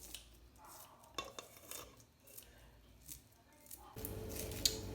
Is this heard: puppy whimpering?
no